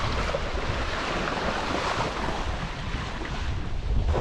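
Windsurfing at open sea off the Isle of Man, with a steady roar of wind buffeting the microphone over continuous wash and slap of waves, loud and close throughout, no voices.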